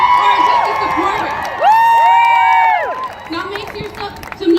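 Rally crowd at a Women's March event cheers and shouts loudly, with whoops and high voices sweeping up and down over a steady roar of noise.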